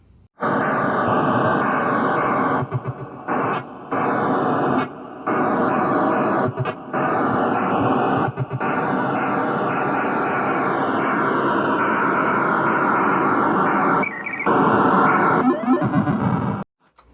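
Gameplay of Defender on the Atari: a loud, continuous harsh electronic roar of noisy synthesized tones, broken by short gaps and bursts of blasts and explosions.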